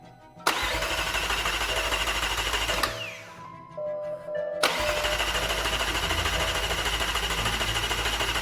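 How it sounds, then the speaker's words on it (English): A starter motor cranks the engine of a crash-damaged McLaren 720S in a steady whirring grind that stops briefly partway through and then resumes, loud and close, with no voices. "My dad was just going to put power directly to the starter motor whilst I had the ignition on."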